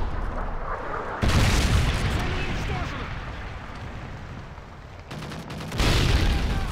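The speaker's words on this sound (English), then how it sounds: "Friendly Predator missile inbound." A Predator missile strike in Modern Warfare 3 lands as a heavy, loud boom with rumbling roar, followed later by a second blast, within continuous battlefield din.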